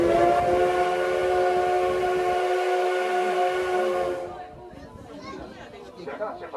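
A coal-fired steam locomotive at the Kyoto Railway Museum sounds a long, loud, steady whistle for about four seconds, then cuts off into the clatter of the train starting away, with people chattering in the background.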